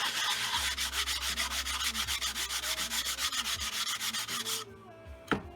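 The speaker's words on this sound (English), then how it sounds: "I want to go ahead and sand it just a little bit." A small wooden workpiece is hand-sanded to knock off rough edges before scroll sawing: close, steady back-and-forth rubbing strokes in an even rhythm that stop near the end, followed by a single brief knock.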